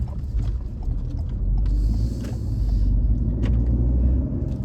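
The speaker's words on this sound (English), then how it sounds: "this car just zoomed around" A car on the road rumbles past close by, a loud low whoosh that swells and fades with other traffic noise.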